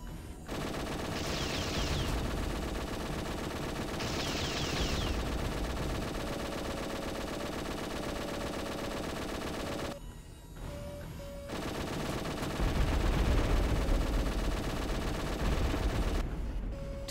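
Rapid strafing weapon fire in the futuristic police combat game G-Police 2, sustained dense bursts of gunfire with brief pauses, loud and close, with no talking.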